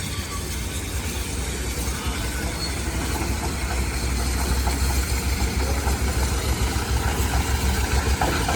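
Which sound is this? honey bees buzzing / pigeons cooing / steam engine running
steam engine running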